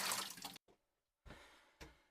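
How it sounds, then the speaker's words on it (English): Water poured out of a Culligan P5 whole-house filter housing into a bucket, a short splashing gush followed by a pause and then two more brief splashes, close by. "Let's go ahead and dump that water into the bucket"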